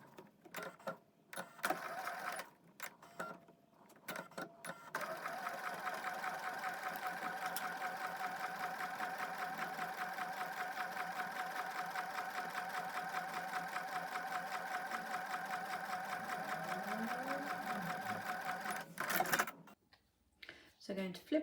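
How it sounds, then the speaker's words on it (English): A sewing machine runs in a steady fast rattle for about fifteen seconds, close by, with brief handling noises before and after. "take that back over to the sewing machine"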